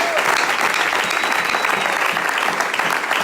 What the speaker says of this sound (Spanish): Le damos aplausos al Señor